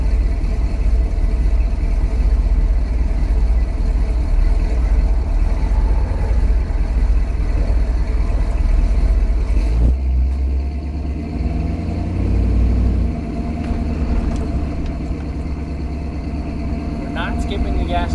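A 1965 Chevy Nova wagon engine idles with a steady low rumble while held on the brakes, someone talking over it throughout.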